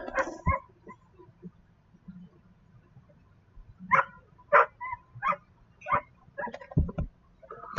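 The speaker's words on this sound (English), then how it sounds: "There's a dog." A dog barks in short sharp bursts somewhere in the area around a parked car, with several spaced barks and yips over low background rumble.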